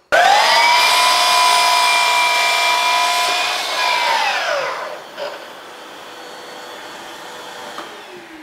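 A miter saw cuts wood window trim in a cabin, a loud, steady whining roar for about four seconds that winds down as the blade stops, followed by a few faint knocks.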